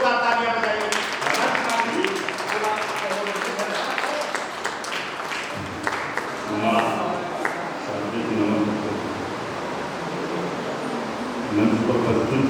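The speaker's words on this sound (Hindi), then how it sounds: "आदरणीय मधुकर शहनाई जी के लिए जोरदार तालियां बजाइए।" A Hindi poetry-recital audience applauds poet Madhukar Shehnai with dense, sustained clapping that thins out partway, while a voice speaks over it.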